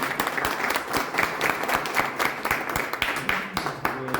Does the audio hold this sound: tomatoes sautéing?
no